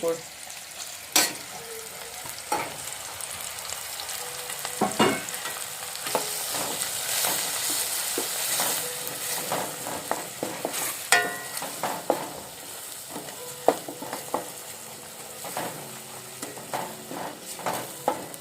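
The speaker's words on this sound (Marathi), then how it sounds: "आणि आता टाकूया मसाले मसाले हळद धनेपूड आपला लाल मसाला आणि काळी" Turmeric, coriander powder and red masala sizzle in a hot pan in a kitchen while a spoon stirs them, giving a steady crackling fry broken by frequent scraping clinks, close and fairly loud.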